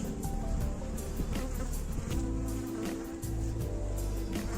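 Dense, steady buzzing of many Yığılca honeybees close up at the hive, a continuous droning hum with no voices.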